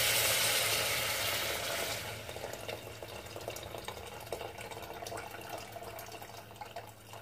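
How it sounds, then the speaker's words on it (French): Hot water poured over meat in a cooking pot for a sweet tajine, a steady rushing pour that is loudest at first and then eases into softer bubbling and trickling, with no voices. "Ici, j'arrose avec un petit peu d'eau chaude."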